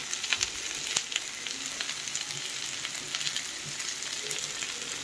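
Chili and egg mixture frying on a low gas flame, a quiet steady sizzle close by with occasional light stirring taps and scrapes, no voices.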